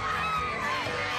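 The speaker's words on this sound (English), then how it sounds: "The crowd here is jam-packed." A dense, jam-packed crowd fills the Park Jam in Suva, a steady wash of many voices, children shouting and occasional cheers, close and continuous throughout.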